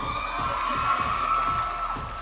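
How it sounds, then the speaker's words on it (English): A large crowd at a live esports league broadcast cheers and applauds loudly, a sustained roar of shouts and clapping lasting a couple of seconds. "Let's give him a round of applause."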